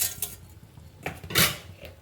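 Mustard seeds drop into hot oil in a pan while cooking an okra and dried fish curry, giving a few clinks and brief sizzling bursts, the loudest near the end, with no talking.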